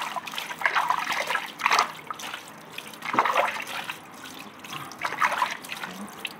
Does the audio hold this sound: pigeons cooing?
no